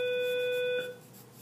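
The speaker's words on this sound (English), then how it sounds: "There's our bell for the morning." A morning bell gives a single clear, sustained ring that fades after about a second; quiet and alone, with no talk.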